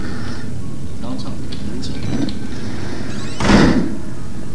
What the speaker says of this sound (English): Why do I close doors so loud?